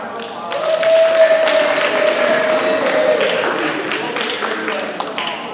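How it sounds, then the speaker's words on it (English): Applause at a neighborhood association meeting, a sustained round of clapping from a small group with a faint tone running underneath, tapering off near the end. "let's give us a little bit of applause"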